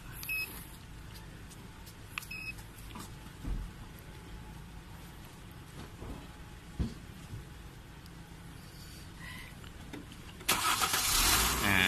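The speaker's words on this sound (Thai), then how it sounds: "พี่ลองสตาร์ทเลยครับ" A Mercedes-Benz car with a new Amaron Pro DIN80L battery sits quietly with faint clicks and beeps before the starter engages near the end, followed by a loud, sustained engine rumble close by.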